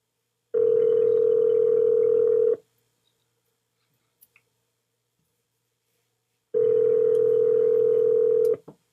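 A telephone call rings out with two long, loud steady tones about four seconds apart, separated by near silence with a couple of faint clicks.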